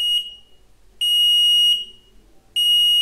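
Electronic alarm buzzer on an underground water tank level indicator sounds three shrill, steady tones, each under a second long, separated by short gaps, close and loud with no talk.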